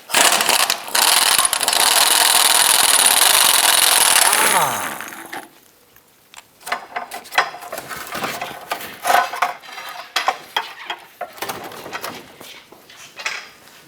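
Front driver-side subframe bolt on a 2008-2013 Nissan Rogue being removed with a power tool: a loud, continuous mechanical whir for about four and a half seconds that cuts off, followed by scattered metallic clanks and rattles.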